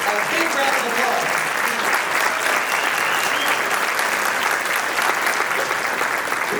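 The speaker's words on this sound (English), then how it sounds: "He's a Chamber Legacy Award winner and deserves a big round of applause." Dense, steady audience applause fills a room at a local chamber gathering honoring a Chamber Legacy Award winner, sustained and even from start to finish with no clear voices on top.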